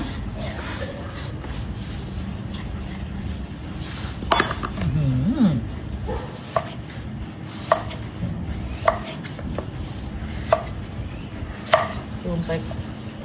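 Sharp knife chops land on a board at an irregular, unhurried pace, with a few clinks of utensils over a low background hum and some muffled voices.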